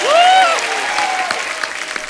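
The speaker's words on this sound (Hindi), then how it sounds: "तो चलिए आप सबकी जोरदार तालियों के बीच" A studio audience at The Kapil Sharma Show applauds loudly, opening with a sharp rising whistle over dense clapping that carries on steadily through the short burst.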